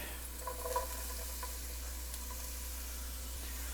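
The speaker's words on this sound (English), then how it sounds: "Now we're going to add our beautiful red chard stems." Red Swiss chard stems sizzling in a hot pan, a faint, steady frying hiss with a few light stirring clicks early on.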